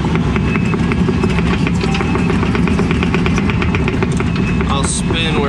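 An excavator engine runs loud and close at a building site where a pad is being prepped for a pole barn, holding a steady, unbroken drone as the machine pulls off to the side.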